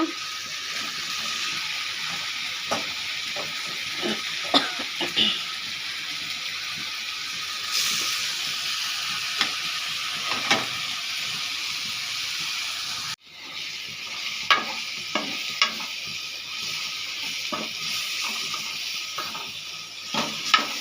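Chicken pieces sautéing in a pan for South Indian chicken curry give a steady, close sizzling hiss, broken by occasional scrapes and stirring knocks. A brief dip midway is followed by the frying continuing.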